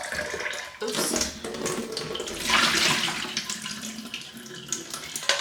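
Water running and splashing as cooked grains for cockatiel food are drained, likely through a strainer into a sink, a steady close rush with brief surges and no talking.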